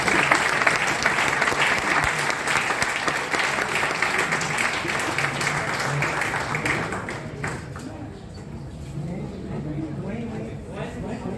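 Students and teachers at a medical college Teacher's Day celebration give a speaker a loud welcoming round of applause, dense continuous clapping that fades after about seven seconds into crowd murmur and talk.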